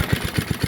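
An old Webb or Suffolk Punch lawn mower engine fires in a quick, regular series of loud low thumps, close by and alone.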